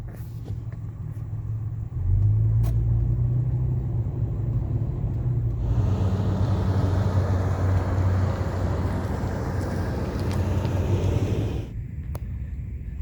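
A Toyota FJ Cruiser rolling slowly across a parking lot, a continuous low engine rumble with a louder stretch of tire and road noise in the middle, heard from close range without talk.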